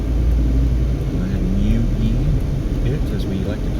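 Cars pass along a Las Vegas street near the Strip, a steady loud rumble of traffic going by up close.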